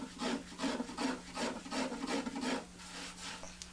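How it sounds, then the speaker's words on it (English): A carving tool scrapes and rasps across the wooden top of an archtop guitar in a steady series of close, rhythmic strokes, about six per second at first and then easing off, with no talking. "it changes all the time as I'm carving and cutting on it."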